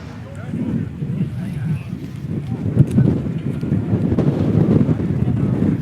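Steady low rumbling buffet of wind hitting a microphone outdoors at a hot rod car tour, continuous and fairly loud throughout with no voices.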